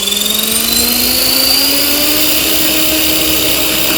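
A Gartt 500-size RC helicopter's rotor spins up under throttle, its loud, close whine rising steadily in pitch over a constant mechanical drone.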